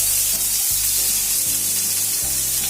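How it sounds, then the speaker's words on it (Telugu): Chopped onions and tomatoes sizzle steadily in hot oil for a fried idli masala, a close, continuous crackle with a few soft stirring scrapes underneath. "ఆనియన్స్ టమాటోస్ ఆయిల్ హీట్ ఎక్కింది. ఇప్పుడు దీని మీద వేసేస్తున్నాను."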